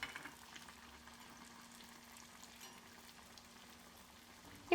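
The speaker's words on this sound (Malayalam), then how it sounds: "നമുക്കിതുപോലെ തിരിച്ചും മറിച്ചും ഇട്ട് നമ്മുടെ പഴംപൊരി നന്നായിട്ട് ഫ്രൈ ചെയ്ത് എടുക്കാം" Pazham pori banana fritters deep frying in a little oil in a small wok over a high flame give a faint, steady sizzle with no talk, ending in a brief louder clatter.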